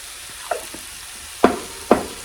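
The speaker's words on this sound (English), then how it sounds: "Give it another stir." Zucchini sizzling in a frying pan with salt and pepper while a utensil stirs it, giving a low constant hiss broken by three sharp scraping knocks of the spoon against the pan, the last two louder.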